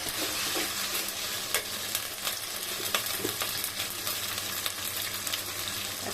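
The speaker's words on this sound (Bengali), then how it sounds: "এই জন্য নাড়াচাড়া দিয়ে নিচ্ছি।" Beef sizzles loudly in a pan while being stirred, with a dense steady frying hiss and repeated scraping strokes of a spoon, close up and without voices.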